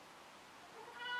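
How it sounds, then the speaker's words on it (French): A kitten gives one short, faint meow that rises briefly at the very end, heard alone and close. "Miaou, mon chaton."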